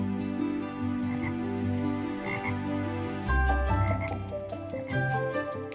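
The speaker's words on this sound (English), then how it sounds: "A bullfrog bellowed his morning croak." Bullfrog on a misty river at morning, giving deep, resonant croaks that repeat against a layered background of other animal calls and soft music-like tones.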